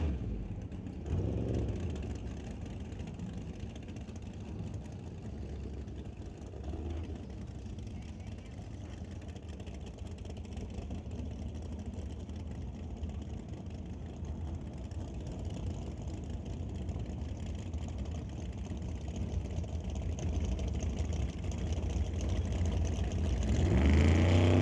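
Drag racing car making a run down the left lane at a Doorwarz event, engine roaring steadily and building in loudness toward the end, with commentary voices over it.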